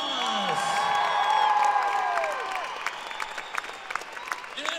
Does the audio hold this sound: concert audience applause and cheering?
yes